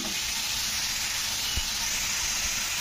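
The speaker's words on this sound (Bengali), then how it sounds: "তো পেঁয়াজটা দিয়ে কিন্তু আলুর সঙ্গেই কিন্তু কষতে হবে।" Onions sizzling and frying together with potatoes in a pan for a potato and shing fish curry, a steady dense hiss throughout with a few soft low thumps from stirring.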